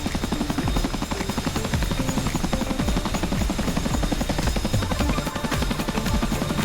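A CH-47F Chinook tandem-rotor helicopter in the DCS flight simulator, with a loud, continuous rotor thump and engine roar. The drone is steady throughout and no one speaks.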